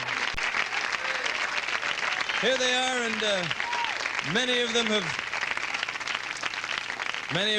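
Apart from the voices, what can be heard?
studio audience applauding and cheering pageant entrants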